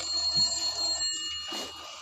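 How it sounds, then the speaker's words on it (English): An old, rusty telephone that dates back decades rings abruptly, a short metallic bell trill heard close and alone at moderate level. "An old and rusty phone that looks like it dates back multiple decades abruptly begins to ring"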